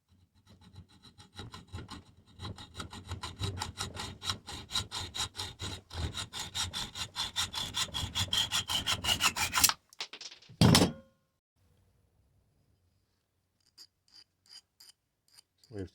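Metal part for an antique ash bucket being sawn to length, rapid rhythmic rasping strokes for about ten seconds, a short burst of harsher scraping, then a few faint light filing strokes after a pause.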